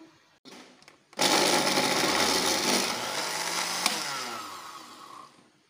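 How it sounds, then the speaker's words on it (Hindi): A mixer grinder whirs loudly while blending mint chutney with yogurt, starting after a brief short burst and running as a steady, dense roar for several seconds before winding down. "चलें इसे पीसते हैं"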